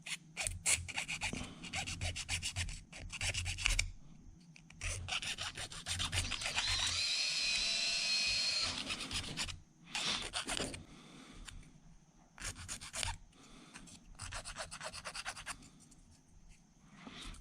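Sandpaper rubbing on a 3D printed GoPro mount for an airsoft gun, harsh scratchy strokes in bursts with a few longer continuous passes and short pauses between, close and fairly loud.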